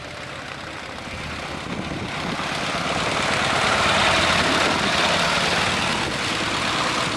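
A Ford Model F engine runs on a makeshift test bench built from an old bench seat, a steady, rough idle that swells slightly louder midway and holds, heard alone without talk.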